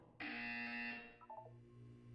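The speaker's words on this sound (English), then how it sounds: "When you hear the buzzer, look down at the floor." An electronic test-chamber buzzer from the video game Portal 2 sounds once, a loud steady harsh tone lasting under a second, then fades into a few short lower beeps over a faint background hum.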